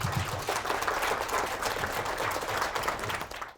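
A lecture-hall audience claps to welcome a dermatology professor, giving moderate, fairly quiet applause that tapers off at the end.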